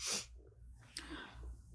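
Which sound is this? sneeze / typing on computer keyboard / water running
sneeze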